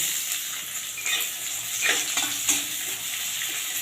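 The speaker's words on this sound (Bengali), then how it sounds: "এবারে দিয়ে দিচ্ছি পেঁয়াজ কুচনো।" Chopped onion hits hot oil tempered with black cumin seeds and sizzles steadily, with a few louder crackles and stirring scrapes; close and continuous, no talking.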